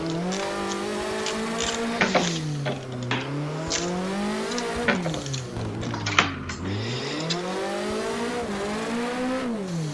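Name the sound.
race car drifting, engine revving and tires squealing, Assetto Corsa video game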